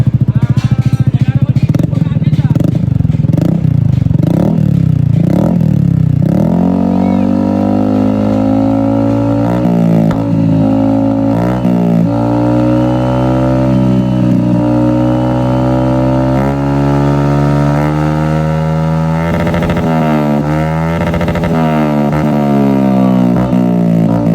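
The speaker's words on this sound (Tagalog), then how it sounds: "Ibigyan natin potential ng NMAX kung gaano kalakas umugong" A Yamaha NMAX 155 scooter fitted with a JJ Villain muffler and ECU remap revs loudly and repeatedly up close, with sharp throttle blips and then sustained high revving. Voices talk faintly underneath.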